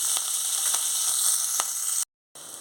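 Green chillies, onions and curry leaves hiss and sizzle loudly in hot ghee over tempered spices, a steady bright crackle with a few sharp pops, broken by a brief silent gap before the sizzle resumes.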